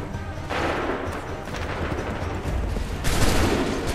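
A volley of musket gunfire in the video game Assassin's Creed III, dense overlapping shots that swell and build into a louder burst near the end, loud and close with no talking.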